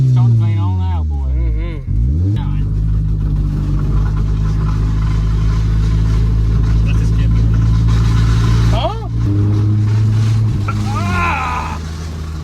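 A cheap used race car's engine idles with a deep, steady rumble, then revs up sharply a few times; voices talk over the engine near the start and end.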